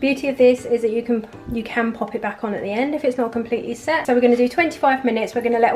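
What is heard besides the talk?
No everyday noises stand out.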